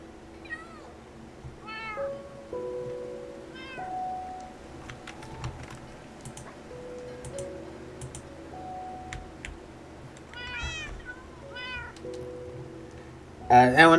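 Minecraft cats meow repeatedly in short, wavering calls spread across the stretch, mixed with steady keyboard typing and clicks, with a brief louder burst of sound at the very end.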